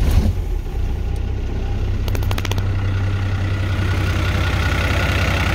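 An Isuzu diesel engine fitted in a K30 tow truck idles with a loud, steady low rumble throughout, with a brief high rattling burst early on.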